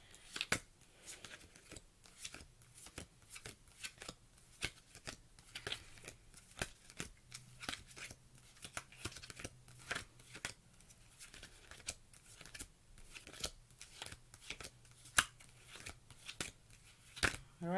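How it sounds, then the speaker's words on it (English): A tarot card deck being handled and shuffled, with repeated crisp card flicks and snaps in an irregular stream, close and fairly quiet throughout, with no talking. "let's go through the deck really quickly just to make sure that everything is upright and that they are kind of shuffled"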